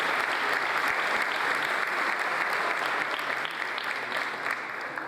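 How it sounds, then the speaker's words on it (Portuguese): Audience applause for a deputy at a government program launch event, dense, even clapping from a crowd, loud and sustained throughout, tapering slightly at the end. "Então eu quero pedir uma salva de palmas"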